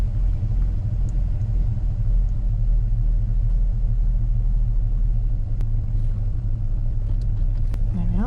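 A van without power steering pulls off a residential driveway, its engine giving a steady low rumble close by, with a continuous road drone and a faint rising whine near the end.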